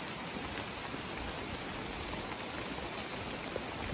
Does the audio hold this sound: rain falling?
yes